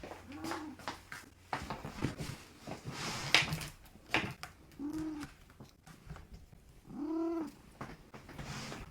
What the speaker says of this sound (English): But my cat's screaming.